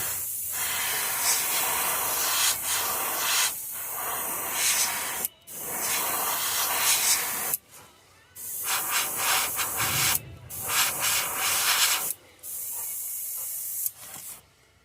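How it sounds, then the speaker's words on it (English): An airbrush sprays paint onto a golden trout pattern fishing lure in long, close hissing bursts with brief pauses between them, and the nozzle sputters slightly as it begins to clog. "Our airbrush wanting to plug up just a little bit."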